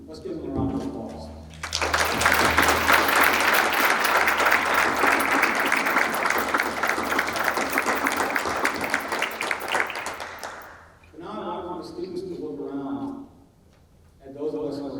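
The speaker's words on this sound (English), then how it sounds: "let's give them a round of applause" Audience at a college honors convocation gives students a long round of applause, a full, steady roar of clapping that swells after a speaker's voice, runs about nine seconds, then fades as speech returns.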